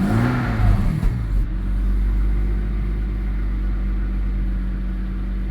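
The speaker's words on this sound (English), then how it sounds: "Let's rev it up, see if the" A classic Jaguar XJS engine revs up sharply at the start, then settles into a steady, loud idle rumble.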